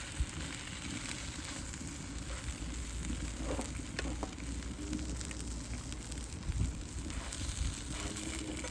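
Bacon fries in a frying pan with a dense, even crackling sizzle that stays close and steady throughout, with a few louder pops.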